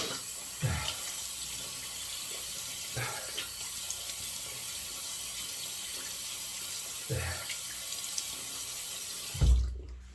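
Hot water from a bathroom tap runs in a steady, close rush while a head is wetted for shaving, broken by a few soft splashes and handling bumps.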